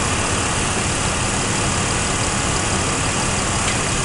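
The 4.3-liter engine of a 1992 GMC 1500 idles with a misfire, giving a dense, constant close-up roar with no clear rhythmic stumble and no voices.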